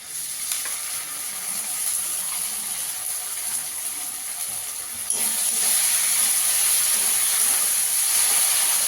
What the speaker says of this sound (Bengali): এবার আমি এখানে এক চামচ আদা রসুন আর কাঁচা লঙ্কা বাটা দিয়ে দেবো।